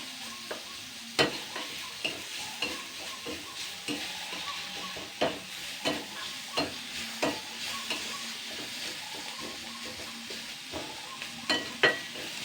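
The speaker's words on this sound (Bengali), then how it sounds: "এবার আমি জাস্ট এটাকে আমি দুই মিনিট মতো নাড়াচাড়া করে নেব" Chopped onion and garlic frying in a pan for a jute leaf and chana dal curry, with a continuous sizzle and regular, evenly spaced spatula strokes knocking against the pan throughout, close and without voices.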